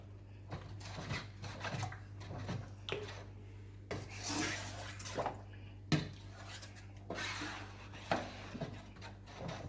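Spoon stirring Jamaican sweet potato pudding mixture in a bowl, a steady run of soft scraping and rubbing strokes with occasional light clinks, close and fairly quiet.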